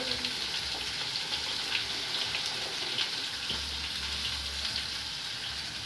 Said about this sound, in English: Of course, some tap water.